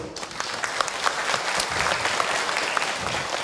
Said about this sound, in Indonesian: boleh tepuk tangan untuk Akh Hilman, Ibu.